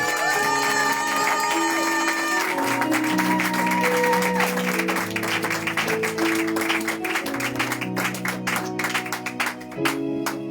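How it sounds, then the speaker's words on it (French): Church congregation applauding during a Sunday thanksgiving service, steady clapping and cheering sustained throughout, mixed with organ or keyboard chords and music playing underneath. "Si tu veux acclamer, acclame bien."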